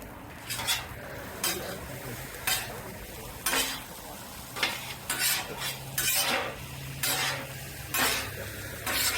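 Green onions stirred on a 36-inch Vevor propane griddle: repeated metal spatula scrapes and clinks at an uneven rhythm over a steady low sizzle, close and fairly loud.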